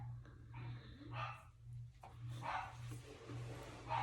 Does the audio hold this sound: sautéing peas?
no